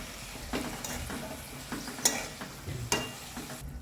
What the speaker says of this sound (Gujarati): હવે આને પણ બરાબર મિક્સ કરી લઈશું.